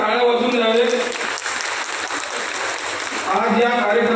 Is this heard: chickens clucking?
no